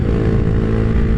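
Honda Grom motorcycle accelerating in second gear, a loud, steady buzzing engine note held close throughout the short stretch.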